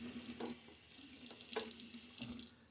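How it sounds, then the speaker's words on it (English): Running tap water splashes steadily into a sink or bowl as more water is added while lathering shaving soap, a close, quiet hiss with a few brief splashes and no talking. "I'm going to start adding some more water now that it looks like it's not really changing too much."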